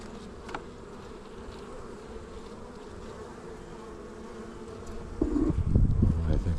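Honeybees buzz steadily around an open beehive during a farm inspection of brood frames, a dense continuous hum that swells louder near the end as the bees close in.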